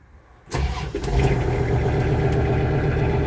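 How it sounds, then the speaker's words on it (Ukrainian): A Kubota GL 46 tractor engine catches with a sudden start after a quiet moment, then settles into a loud, steady, close idle with no voices. "Зараз ми його заведемо"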